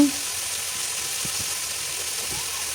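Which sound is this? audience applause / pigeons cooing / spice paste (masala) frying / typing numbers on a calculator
spice paste (masala) frying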